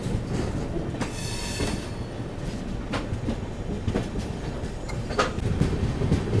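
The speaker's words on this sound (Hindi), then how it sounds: "बैराबी से निकलते ही ये एंटर कर रही है अपनी ट्रेन इस रूट की पहली टनल में" Guwahati–Sairang Express passenger train rolling out of Bairabi into the first tunnel on the route, a steady loud rumble of wheels and carriages with brief high squeals and rattling clatter throughout.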